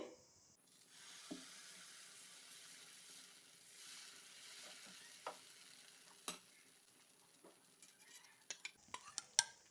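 Kara dosa batter going onto a hot tava over a medium flame, a soft sizzle with scattered light scrapes and taps that turn into a quick run of sharper clicks near the end.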